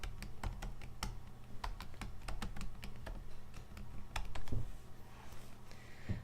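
Fingers tap quickly on a computer keyboard, a close run of crisp irregular keystrokes that slows near the end, with no voices.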